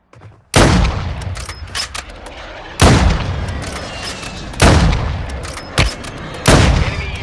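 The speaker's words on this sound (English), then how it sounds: "Friendly airstrike in the AO." Booming blasts from a friendly airstrike in Warzone Mobile hit in four separate heavy impacts spaced a couple of seconds apart, each followed by a rumbling, crackling tail.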